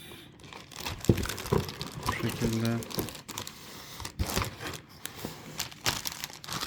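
Plastic packaging of a Logitech MK120 keyboard and mouse set crinkles and rustles in close, irregular bursts during unboxing, with someone talking intermittently over it.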